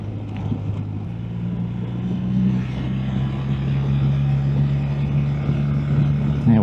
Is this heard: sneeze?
no